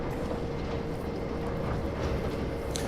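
A Class 08 shunting locomotive on the North Yorkshire Moors heritage railway between Whitby and Pickering gives a steady, loud, continuous engine rumble and rolling noise, heard up close with no talk.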